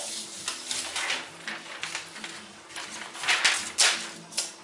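Spaghetti being stirred in a pot on a stovetop: soft scraping and knocking of a utensil against the pot in an irregular rhythm over a faint simmering hiss, close and fairly quiet.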